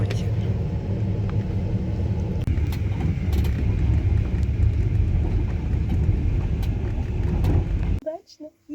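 Steady, loud low rumble of a Trans-Siberian passenger train rolling along the rails, heard from inside the carriage, with a few faint clicks of the wheels, running continuously until it cuts off abruptly near the end.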